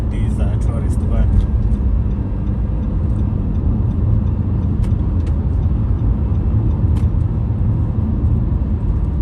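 Nissan X-Trail cruising on a two-way Kenyan highway between Kisumu and Nairobi while overtaking a tourist van, with steady low road and engine rumble throughout and a person talking over it.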